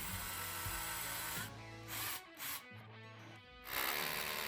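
A Parkside PABH 20 cordless hammer drill runs in bursts, whining as it bites into metal, pausing and restarting several times with shifting motor pitch.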